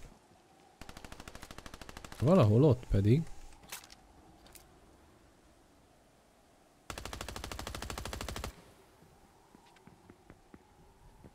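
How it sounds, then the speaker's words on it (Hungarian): Automatic gunfire in the video game Fortnite comes in two rapid bursts of rattling shots, the first short and the second longer and steadier, with a player talking briefly between them. "Hol lövöldöztök egymásra?"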